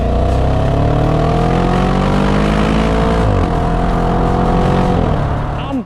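Audi RS5 B8.5 with a naturally aspirated V8 revving hard and loud, its harmonics climbing steadily then dipping briefly before rising again, continuous with no talk.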